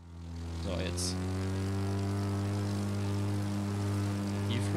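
A propeller airplane flies low through a canyon in the racing game The Crew 2, its engine droning steadily and loudly with a strong harmonic hum throughout, briefly joined by a faint voice.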